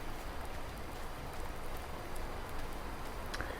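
Steady rain falls across a farm in Farming Simulator 19, a continuous, even broadband hiss of game rain with a few faint brighter patters, heard alone at low level throughout.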